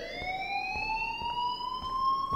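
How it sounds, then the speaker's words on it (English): A fire alarm sounds in the video game Life is Strange with a steady electronic whine that rises slowly in pitch. A faint, regular ticking pulse runs underneath, and the tone plays alone at moderate volume. "please turn off that alarm since that's your job"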